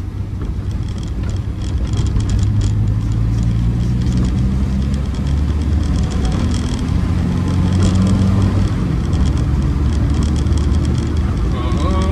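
A Morris Minor car drives along in third gear, its steady mid-pitched engine hum and road rumble heard from inside the cabin, with a person talking over it at times.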